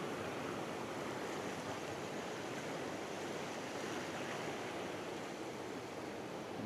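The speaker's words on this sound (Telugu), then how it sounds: "చూడండి ఫ్రెండ్స్, లాకుల్లోంచి వాటర్ ఎంత ఫోర్స్గా వెళ్తుందో" Water rushing forcefully through old British-era canal lock gates in Konaseema, a steady, loud broadband roar that holds constant and close with no voices.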